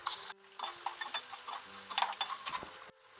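Mustard seeds crackling and popping in hot tempering oil, a quick irregular series of sharp pops and ticks at moderate distance, fairly quiet.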